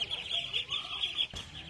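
A chicken clucks a few times near a rural jungle edge, brief soft calls over a steady high-pitched insect or bird drone, with a short sharp noise near the end.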